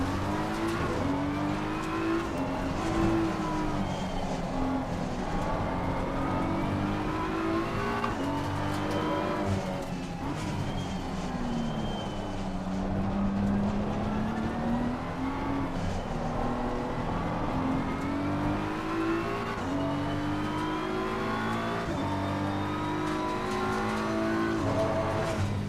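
Race cars in Assetto Corsa Competizione, including a Ferrari and a BMW, roar down a straight with a steady, loud engine drone whose pitch rises and falls through gear changes for the whole stretch.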